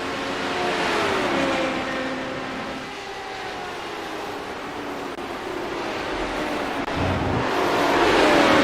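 Race cars in an amateur sports car race run down the backstretch at Mosport, engines giving a steady, sustained roar from mid-distance, with a smooth rise and fall in pitch as they pass.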